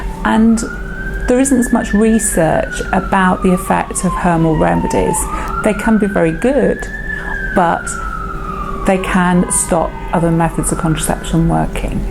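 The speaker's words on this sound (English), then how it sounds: "You can hear lots of police sirens" Police sirens wail repeatedly outside a busy London hospital, rising and falling in long sweeping cycles that carry steadily behind someone talking close by.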